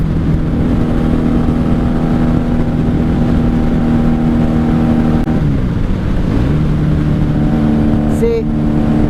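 A 1994 Honda Magna 750 motorcycle cruising on the highway in fifth gear, a loud continuous engine drone with heavy wind rush, the pitch dipping and rising briefly partway through.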